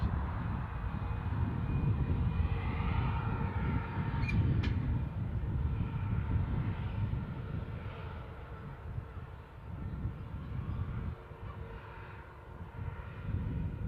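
An aircraft at Newcastle International Airport, heard as a sustained low, broad engine roar from a small plane that stays loud for several seconds before easing slightly, with outdoor background noise and no talking.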